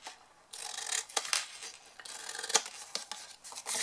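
Scissors snipping paper tabs for a miniature chocolate box, a run of close, quiet crisp cuts and rustles with brief sharp snips.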